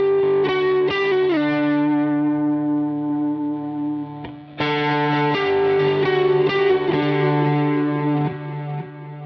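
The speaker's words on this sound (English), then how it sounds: "pretty cool reverb, pretty standard, vintage digital" Electric guitar played through a Line 6 HX Stomp XL with a vintage digital reverb and distortion, sustained chords and notes that ring out with a reverb tail, alone and clear.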